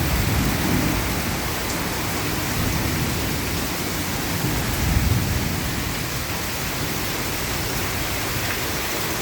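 Rain falls steadily in a village in May, a dense, continuous hiss of drops on surfaces, close and even throughout, with no voices.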